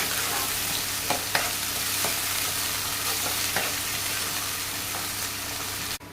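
Green chilies, spring onion bulbs, cumin and mustard seeds stir-fried in oil for an egg curry, a steady close sizzle with periodic scraping stirs and a utensil knock at the end.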